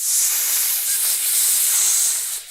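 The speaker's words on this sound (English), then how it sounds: "sizzling noise as the surface of it begins to pit and melt away." A green acid blob sizzling as it melts and pits metal armor in the board game GORE, heard as a steady loud hiss with a bright, spraying, steam-like texture that holds for a couple of seconds and fades briefly at the end.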